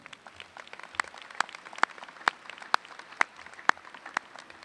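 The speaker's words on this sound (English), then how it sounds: "Let's give Dr. Ford one more round of applause." An audience at an NJCU ceremony applauding for Dr. Ford, a fairly faint, distant patter of clapping with a few sharper individual claps standing out in a steady rhythm.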